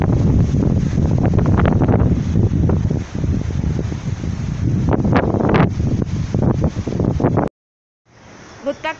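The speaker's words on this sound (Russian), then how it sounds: "Вот такая вот очень ветреная погода стоит сейчас в Самаре." Strong gusting wind in Samara during a stormy July day, roaring and buffeting the microphone loudly and continuously, with a voice talking over it before an abrupt cut near the end.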